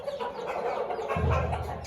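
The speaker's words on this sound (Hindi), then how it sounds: "आप लोग ये मुर्गे चेक करें" Roosters cluck nearby in short, fairly quiet bursts, with a fuller, lower cluck arriving near the end over faint background noise.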